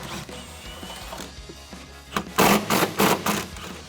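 An impact wrench with an extension and swivel socket rattles out the top mount bolts of a shock on a rear-wheel-drive Dodge Challenger, several loud close bursts toward the end after a quieter stretch of tool handling.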